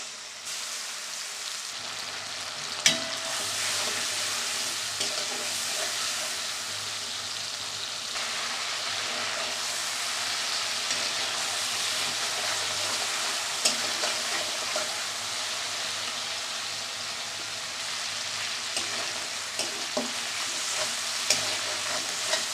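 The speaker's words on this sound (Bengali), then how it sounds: "মশলাটা কষানো হয়ে গেছে" Spice masala with browned onions fries in a pan with a steady, dense sizzle throughout, broken now and then by light taps and scrapes of stirring.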